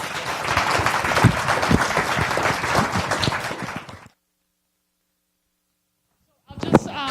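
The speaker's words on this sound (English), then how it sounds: "If we could give them a round of applause" An audience at a STEM teaching workshop gives a round of applause, a loud dense burst of clapping that stops abruptly after about four seconds, followed by silence and then a brief return of clapping at the end.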